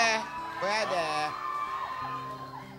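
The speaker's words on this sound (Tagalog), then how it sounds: "sumisigaw na yung audience" A studio audience on a Filipino television show shouts and cheers loudly, a sustained mix of high whoops and yells from many voices, with some voices speaking through it.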